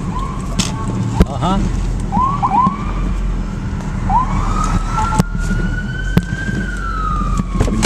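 A police siren wails along a Staten Island street at night. Rising and falling sweeps grow into a long, steady tone over traffic rumble, with sharp distant bangs and a brief voice nearby.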